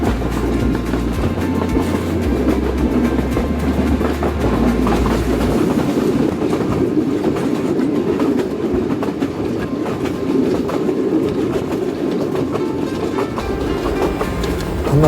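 Riding aboard a train in Sri Lanka bound for Trincomalee, a loud continuous rumble of wheels on rails with steady clickety-clack, heard close up from inside the carriage.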